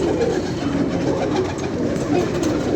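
A pigeon coos continuously at close range, a steady low warbling murmur that fills the short stretch without a break.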